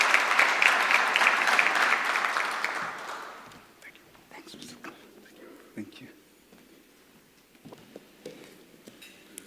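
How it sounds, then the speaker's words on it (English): An audience at a food and beverage manufacturing annual general meeting claps to welcome the chairperson, a loud burst of applause that fades within a few seconds, followed by quiet murmuring and scattered soft sounds. "A clap of hands, please."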